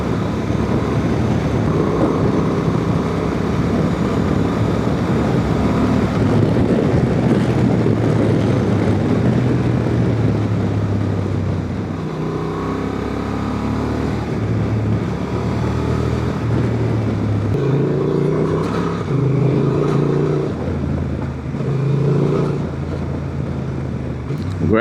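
A 2026 Honda Transalp 750 with E-Clutch ridden off-road on gravel, a steady, close engine drone with shifting pitch under a continuous rough crunch of tyres and wind.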